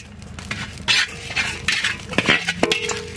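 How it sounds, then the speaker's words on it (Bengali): Whole cumin, dried red chillies and coriander seeds are dry-roasted in a pan, heard as scattered scraping, tapping and stirring clatter of utensil on metal, close and uneven, without talk. "এটাকে আমরা শুকনো খোলাতে সুন্দর করে ভেজে নেব"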